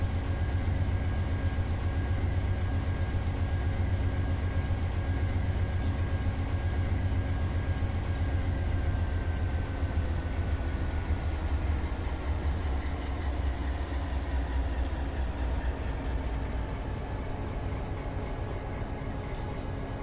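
An Amtrak P053 Auto Train locomotive runs through Jesup, Georgia, a steady low diesel engine rumble with a constant droning hum throughout, no talk over it.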